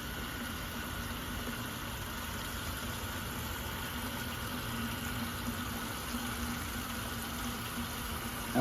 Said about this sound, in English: We're going to fill this up with about 2 gallons of water.